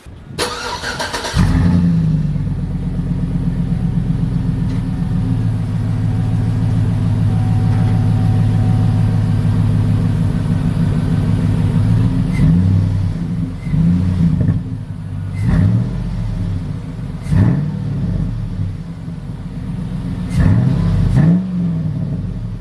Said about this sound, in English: my grandparents put a Flowmaster exhaust on it, and it sounds amazing now